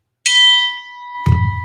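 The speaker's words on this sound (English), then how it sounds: "Chime means the next one." A single bright chime marks the move to the next item, ringing out with a clear sustained decay, followed by a low thump.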